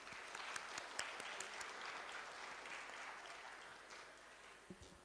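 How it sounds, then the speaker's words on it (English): An audience at a corporate industry interaction session claps steadily, a soft, fairly distant wash of applause that gradually tapers off. "May I request everyone to please give Sir a huge round of applause."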